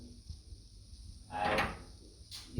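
A hotel room door in China opens with a key card, giving a soft latch click and a sliding, rubbing swell of movement, then a second brief click, set against quiet background hum.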